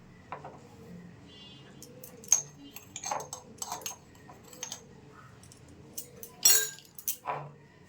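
Sweet batter with baking powder and baking soda being mixed in a bowl, producing sparse clinks and scrapes of a utensil against the bowl, irregular and fairly quiet, with a louder clatter near the end.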